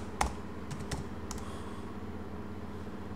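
Someone types a search into Google on a computer keyboard: a short burst of a few sharp, close clicks near the start, then only a quiet room hum.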